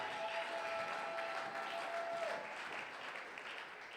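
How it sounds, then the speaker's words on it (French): A church congregation at a Sunday worship service applauds loudly, a dense sustained wash of clapping that fills the room for several seconds and slowly eases off. "Est-ce qu'on peut acclamer très fort pour Jésus?"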